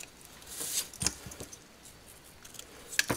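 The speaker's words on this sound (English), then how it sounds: "And then you're just going to trim with your scissors." Scissors trimming the ends of a ribbon bow on a handmade greeting card, giving a few short, close snips and crisp cuts with quiet rustling between them.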